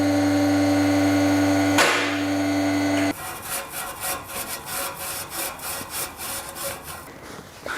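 A Scotch-Brite pad scrubs a metal exhaust pipe on a BMW E46 with an S85 V10, a rapid rhythmic scratchy rubbing that starts after a few seconds of steady machine hum, loud and close.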